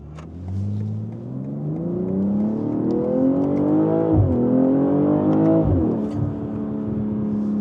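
A BMW M240i xDrive coupé engine and exhaust rev up in smooth rising sweeps, close and loud. The pitch climbs, dips sharply and climbs again, then settles into a steady drone, with no voices.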